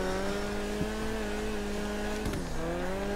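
An Issi Classic car in GTA driving around a race track, its engine droning steadily with a brief dip and a tire scrub near the end, loud and close with no talking.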